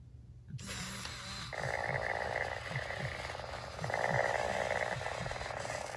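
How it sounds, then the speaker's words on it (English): A Chongker MateCat Pro interactive robot cat purrs in a rhythmic, buzzing pulse with soft low thumps like a heartbeat, starting after a short quiet moment and continuing close and steady. "then the cat purrs constantly and also has a heartbeat constantly at the same time."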